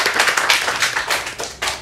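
Audience applause at a campus talk show with a student executive board (BEM) and its social ministry, steady dense clapping with a few sharper claps, loud and close, sustained for the whole stretch with no talk.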